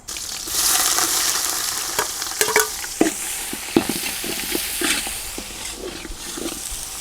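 Garlic dropped into hot oil with bay leaves, cinnamon and cloves for biryani, sizzling steadily up close with scattered clicks and scrapes from stirring in the pan.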